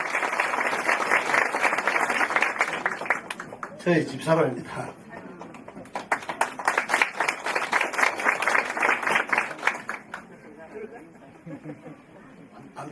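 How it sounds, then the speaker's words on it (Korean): An audience at the opening ceremony of a senior care home in Dongnae-gu claps in two bursts of steady, rapid applause. Someone speaks briefly in between, and quieter murmuring follows. "여러분 다시 한번 큰 박수 주세요"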